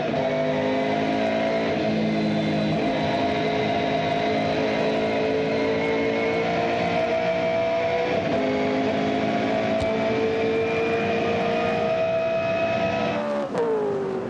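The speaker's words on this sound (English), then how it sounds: "So the Shell Helix Ford really cranking down the main straight." A Ford touring car in Shell Helix colours, 1998 Australian Touring Car racing at Phillip Island, holds a loud, steady engine howl at high revs down the main straight, close and continuous, with a brief pitch drop near the end.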